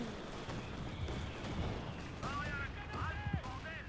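Artillery bombardment in Company of Heroes 2, rumbling, scattered booms and crackling blasts throughout, under a busy battlefield din with chirping whistles toward the end.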